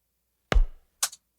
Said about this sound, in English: I just hit my fist on the piano bench and then brought it in and just manipulated it.